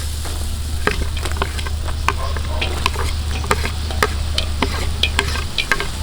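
White onions sizzle steadily in a pot as they cook for an outdoor seafood boil, with a dense crackle and sharp clicks and scrapes of stirring throughout.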